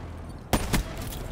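Gunfire from Call of Duty: Black Ops III gameplay: two sharp, loud shots about a quarter second apart, ringing out over a low steady game background, with no voices.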